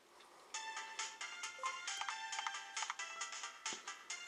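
A phone rings in a video game, a quiet electronic ringtone repeating a quick series of bright tones in a steady rhythm for several seconds.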